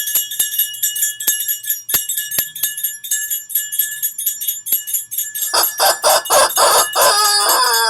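A rooster crows loudly and repeatedly as a sound effect, preceded by a series of sharp clicks and ringing, bell-like tones.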